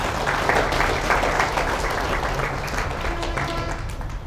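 Audience applause at a Ramayana discourse in Hyderabad, a steady dense wash of many hands clapping together, sustained and fairly loud across the whole stretch without any speech over it.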